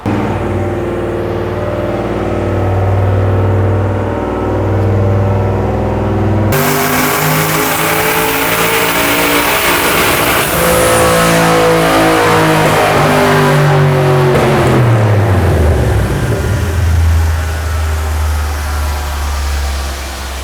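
A 600-horsepower turbocharged Lincoln running on nitrous roars loudly up through the revs in one hard pull. The engine note climbs steeply, then drops away and settles into a lower drone.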